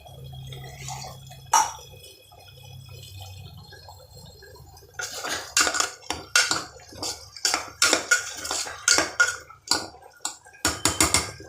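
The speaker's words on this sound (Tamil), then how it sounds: "ஆயிலே ஃப்ரை பண்ணுவோம். நான் தண்ணி போடலை." Potatoes frying in oil without water are stirred in a pan. After a quiet start with one clink, a run of close, rhythmic spatula scrapes and clatters follows against the metal.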